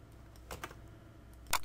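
A search query is typed on a computer keyboard, a few light, close key taps scattered across the moment, ending with one sharper, louder keystroke.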